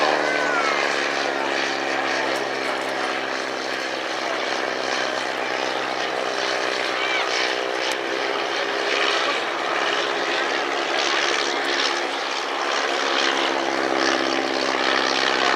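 An Avro 504 propeller biplane flies at the RAF Cosford Airshow, its engine a loud, continuous droning buzz with steady harmonic tones, while a commentator talks over it.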